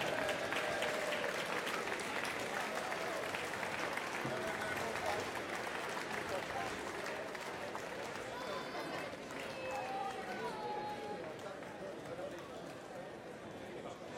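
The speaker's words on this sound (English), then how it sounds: "round of applause for Liang Zhu." An arena crowd at a 2018 world ping pong championship final applauds a bronze medalist, dense steady clapping filling the hall throughout while an announcer speaks over it.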